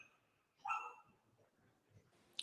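The neighbors' dogs bark and yip in the distance in a quick, noisy burst that sounds like they are fighting. Quieter scuffling sounds follow, with a sharp yelp at the end, all faint under room quiet.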